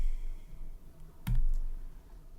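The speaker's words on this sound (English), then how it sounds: "And then we will type in confirm." Keys clack on a computer keyboard while a confirmation is entered into a chatbot setup, a short burst of close, crisp clicks standing out against a quiet room.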